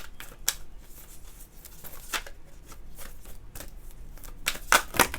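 A deck of tarot cards is shuffled by hand in a quiet room, with soft riffling and a few sharp card snaps and flicks spread through the clip, louder near the end.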